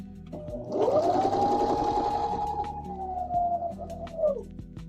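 A sewing machine stitches a quilt square in one continuous whirring run, revving up quickly, holding a steady hum for several seconds close by, then winding down at the end.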